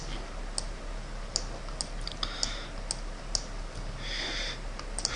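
Scattered computer keyboard key presses and clicks, sharp isolated taps spaced irregularly at close range over a low steady hum, with a short burst of rapid clicking near the end while modeling a sprocket gear.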